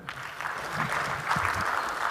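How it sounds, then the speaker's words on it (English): An audience at the launch of a national ICT job fair claps in a brief, moderate burst, with a few voices murmuring faintly underneath. "I think let's clap for them"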